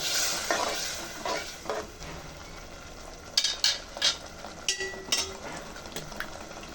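Chicken and potatoes sizzle as they fry in a pan, with a constant hiss broken by a cluster of sharp stirring and scraping clatters in the second half.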